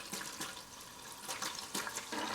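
Water mixed with gasoline drains from the fuel tank of a 1972 Datsun 240Z, a close, continuous trickle and splash with a few brief louder gushes.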